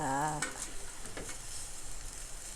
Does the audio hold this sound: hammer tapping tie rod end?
no